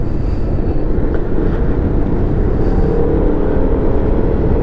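Zontes 310M motorcycle riding through city streets: a steady, loud engine drone mixed with road and wind rumble runs throughout, with no voices.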